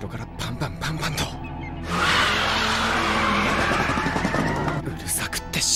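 Anime street race in Initial D, an AE86 against an Evo III on a mountain pass: a loud racing engine roars and tires skid, with a continuous dense rush under spoken dialogue.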